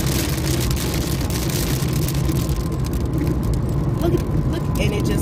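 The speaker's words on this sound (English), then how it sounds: "It's hailing down there." Hail and rain pelting a car while driving in Houston, a dense continuous patter over road and engine noise inside the cabin, with a person talking over it.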